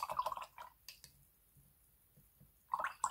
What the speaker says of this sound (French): On va rincer son pinceau.